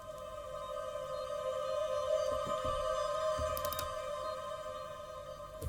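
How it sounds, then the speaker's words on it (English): Logic Pro Alchemy vocal pads synth sustains a soft, airy chord texture, steady and hushed, with faint flickering sparkles drifting in and out. "You can see that there's a ton of pads here, pads, vocal pads above the clouds,"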